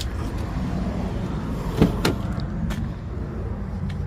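A door on a 2009 Chevy Cobalt LT with rust undercoating is worked open and shut, giving a couple of close, sharp clunks and latch clicks in quick succession over a low steady background rumble.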